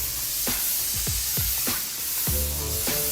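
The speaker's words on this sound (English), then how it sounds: "you pull it back more, then there's the spray, there's the paint that comes out" A paint spray gun sprays in steady left-to-right passes, giving a continuous hiss broken by a series of short, regular whooshing bursts.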